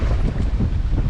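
A sailboat in Atlantic swell off Finistère, with wind against the current, gives a steady loud roar of wind buffeting and rushing water, dense and low, with no voices.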